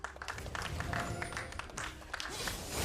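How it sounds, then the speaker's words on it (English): A live esports crowd at a League of Championship Series match gives a scattered, fairly faint round of clapping after a dragon kill in League of Legends, with distant crowd murmur mixed in. "Dragon clap from the crowd."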